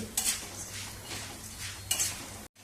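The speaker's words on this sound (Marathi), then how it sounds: "सुगंध सुटेपर्यंत चांगले मिरे भाजून घ्यायचे" Black peppercorns roast in oil in a pan with a low sizzle, while a spoon stirs and scrapes against the metal twice in brief bursts, then the sound cuts off.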